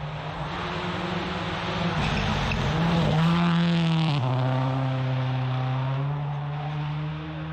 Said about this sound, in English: So, car 180 incoming. Can hear him. Here he comes.